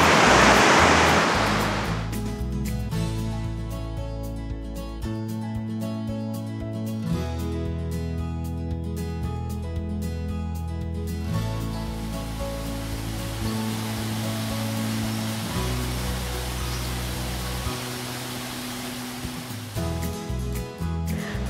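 Rushing water from a waterfall near Obertraun in Upper Austria roars continuously as a broad, steady wash, with a layer of music running throughout.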